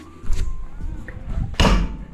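A hotel room door opens and shuts close by, a soft handle rattle early on, then a firm broadband thud of the door closing near the end, alone with no talk.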